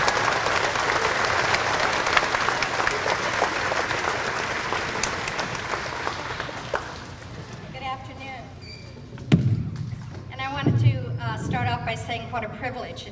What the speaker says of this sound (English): if you could give a nice round of applause to Mrs. Swihart.